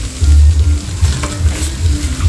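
Angel fish roasting and being flipped over heat, a close crackling sizzle with low rustling thumps and scraping as the fish are turned, no voices.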